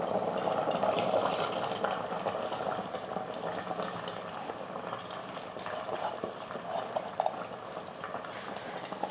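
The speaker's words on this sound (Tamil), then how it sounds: "பாருங்கள், நல்லா கொதிக்குது." Water boils hard in a pot with soaked basmati rice added for Donne biryani, a steady dense bubbling and gurgling simmer at close range, with no talking.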